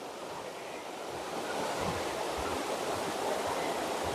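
The River Dean flows nearby as a steady, broadband rush of water, loud and continuous with no breaks, swelling slightly partway through, with some low wind buffeting on the microphone.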